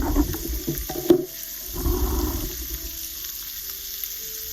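Shrimp cooking in a pan for a steak and shrimp dish give off a steady close sizzle with a few sharper crackles early on, the frying fading slightly but continuing throughout, with no talk.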